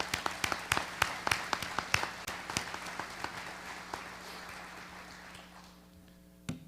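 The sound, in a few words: audience applause for the Muncie police department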